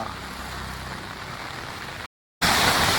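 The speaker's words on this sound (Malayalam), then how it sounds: "ഓ മഴ മഴ തകർപ്പം മഴ" Heavy rain pours onto a road on a short-cut route near the Meenachil river between Ramapuram and Pala, a dense, steady hiss that cuts out briefly and then returns louder.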